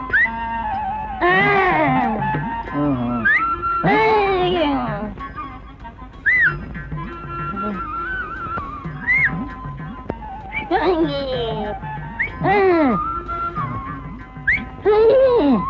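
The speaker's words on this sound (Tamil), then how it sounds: "டேய் என்னடா விசில் அடிக்கிற?" Someone whistles in a short comedy scene, giving several rising and falling bursts in a rough, irregular rhythm. The whistles are close and fairly loud, and spoken dialogue can be heard between them.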